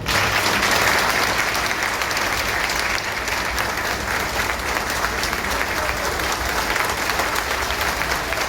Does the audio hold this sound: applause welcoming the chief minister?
yes